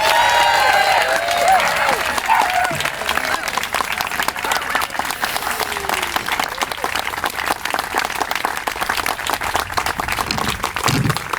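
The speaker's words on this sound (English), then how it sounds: "please join me in giving a round of applause to Hattie, Kerwin, Derrick." A crowd at a Pride flag raising ceremony applauds steadily with dense, sustained clapping that slowly thins toward the end.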